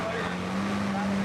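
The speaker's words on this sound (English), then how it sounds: "It was hard for that little motor to push that boat." A small boat motor drones steadily as it strains to push a boat along a fast, rushing river, its constant hum mixed with wind and water noise.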